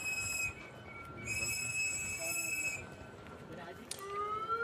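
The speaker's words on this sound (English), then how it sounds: "Those are whistles and warning signs that anti-ICE people are blowing to warn illegal immigrants that ICE is on the job" Sharp, sustained whistles blown by protesters as warnings during an immigration arrest, several shrill tones repeating and overlapping outdoors over street noise and crowd chatter.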